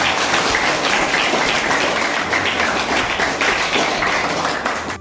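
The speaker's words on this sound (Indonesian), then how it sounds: "Dan tepuk tangan ya" Audience applause at a school outreach event, a thick, continuous wash of clapping that stays loud and even throughout before easing slightly at the end.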